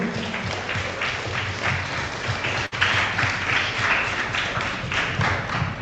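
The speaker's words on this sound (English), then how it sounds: "A round of applause for Mr. Lambert" An audience at an interprimary school quiz event bursts into sustained applause for a former participant, dense clapping filling the hall steadily with no break.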